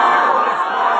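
A crowd at a religious gathering shouts back in unison in response to a Nara-e-Takbir chant. The roar is loud and dense and fills the whole second.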